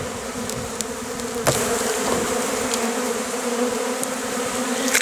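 Honey bees buzz steadily and loudly at an open hive in March, a dense continuous drone with occasional sharper clicks and bumps.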